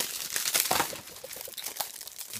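Plastic shrink wrap crinkles and crackles as it is peeled off a Paul Newman six-film DVD box set, close-up irregular rustling bursts with no talk.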